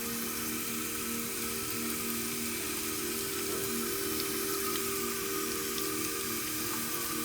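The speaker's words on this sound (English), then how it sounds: "I should put the water on first." Water runs steadily from a salon sink tap, a constant hiss and splash with a faint hum beneath, alone and unbroken with no talking.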